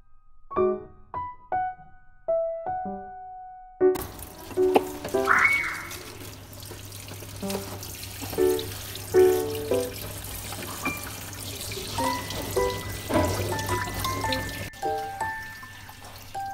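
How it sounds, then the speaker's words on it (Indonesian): Spring onions, mustard greens and chilies are rinsed under a running tap, a steady close splash of flowing water with irregular sloshing and clattering from the handled vegetables, preceded by a few scattered knocks and taps. "yang pertama ini aku mau cuci dulu daun bawang"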